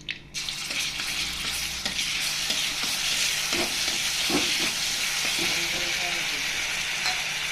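Ginger garlic paste hits hot oil in a pan and breaks into a steady, loud sizzle, with spoon stirring scrapes and pops running throughout.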